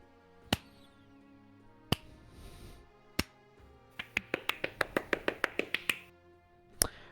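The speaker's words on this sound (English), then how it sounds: "The assembled nobles break out into polite applause." Nobles in the video game King of the Castle give polite applause, heard as sparse separate claps that turn into a quick, even run of sharp hand claps, with a few single claps before and after.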